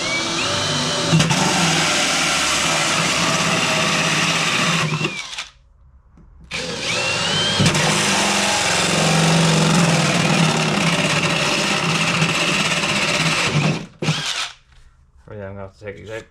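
A power drill with a hole saw grinds loudly through fiberglass for a car grille on a Reliant Scimitar, two long sustained cutting bursts separated by a short pause, close and harsh, ending with brief stop-start revving.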